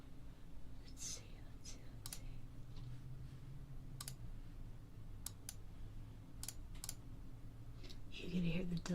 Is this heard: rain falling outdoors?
no